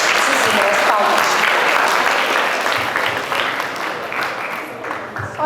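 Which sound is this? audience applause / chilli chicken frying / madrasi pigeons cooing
audience applause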